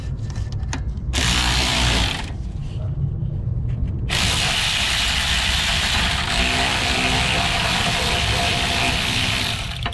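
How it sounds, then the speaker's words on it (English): An electric ratchet runs on a bolt during a rear wheel bearing replacement on a 2011–2023 Dodge Charger or Challenger, a loud steady mechanical whirring buzz close to the mic that continues throughout with brief changes in tone. "Got my electric ratchet this time."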